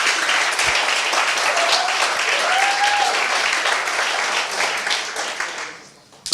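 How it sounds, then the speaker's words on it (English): An audience at a coding bootcamp demo day in Amsterdam applauds the teachers, a dense, steady wash of clapping that holds loud for about five seconds before fading out, with a faint voice rising briefly through it. "So I would also like to ask for a round of applause for all the teachers that were involved."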